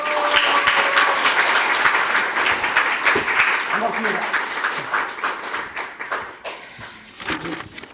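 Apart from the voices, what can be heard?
audience applause welcoming a speaker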